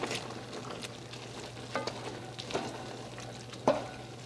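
Wilting leafy greens stirred in a pan over a soft, steady sizzle, with a few scraping and clacking utensil strokes spaced through it and no talking.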